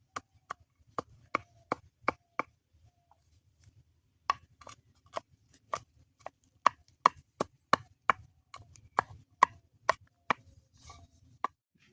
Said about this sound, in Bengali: চলো আদা রসুনটা কুচি করে নিই।